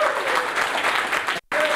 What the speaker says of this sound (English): could you guys clap for Tristan?